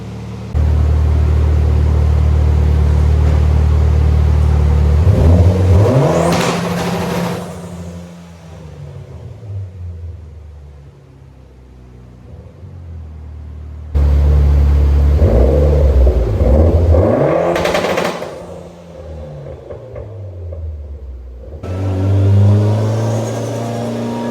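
A Mitsubishi Evo X running an anti-lag tune revs hard on a dyno in two long loud pulls, each climbing sharply then dropping, with rough rumbling idle between and a third rise at the end.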